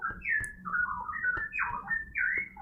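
A bird gives a series of loud, sharp squeaking calls in quick succession, bright whistled notes repeating close by with short gaps between them.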